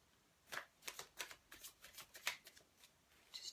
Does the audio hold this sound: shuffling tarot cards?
yes